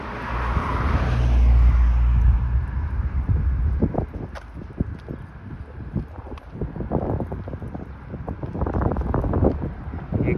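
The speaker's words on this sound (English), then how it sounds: "It's getting windy." Steady wind gusts buffet the microphone outdoors along Steeles Avenue West in Vaughan, Ontario, rumbling low and loud at first, with scattered thumps and passing traffic in the background.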